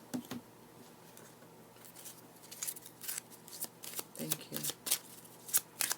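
Tarot cards are shuffled by hand during a reading, a run of crisp papery riffles and flicks that builds from sparse slaps to quicker bursts, close by, with a voice speaking intermittently around them.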